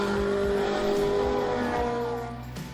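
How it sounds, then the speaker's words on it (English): A race car at Knockhill circuit during Super Lap Scotland qualifying, its engine revving hard through rising and falling gear pitches. It is loud and close, then eases off near the end. "Just listen to that car go"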